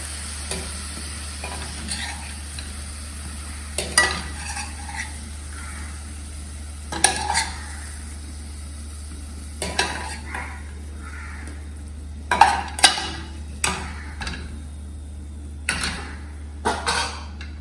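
Masala being scraped from a pan into another bowl: intermittent metal spoon scrapes and clinks against the pan, spaced every few seconds over a constant low hum, close and fairly quiet, no voices.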